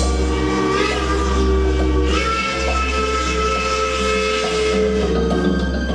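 A steam locomotive whistle on a Central Union Pacific steam engine sounds loud and close, holding a steady multi-tone chord for about six seconds over a background hiss of steam.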